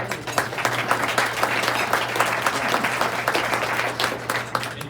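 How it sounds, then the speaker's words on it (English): Steady applause from a luncheon club audience greeting its volunteer greeters, dense and close, with no talk over it. "Round of applause."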